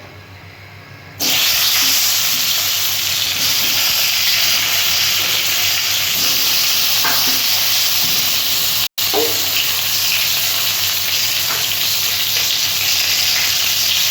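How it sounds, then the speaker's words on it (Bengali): Brinjal pieces fry in hot oil, the sizzle jumping loud after a quieter first second, then a dense steady hiss with a few faint clinks and one brief dropout. "বেগুনগুলো ওই তেল দিয়ে বেগুনগুলো আমি একটু ভেজে নেব"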